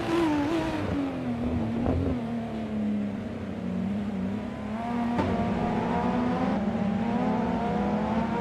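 Racing car engines drone continuously in a racing video game as cars run nose to tail, one steady engine tone dominating, with occasional sharper passes, at moderate loudness and no talk.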